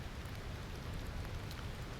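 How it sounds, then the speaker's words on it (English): Steady rain falling in the survival crafting game Aloft, a dense, even hiss with no breaks and no voices. "Love the rain."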